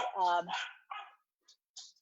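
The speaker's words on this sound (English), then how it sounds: "I have 3 dogs." Several dogs barking indoors, a short volley of loud, close barks followed by a few fainter yips trailing off into silence.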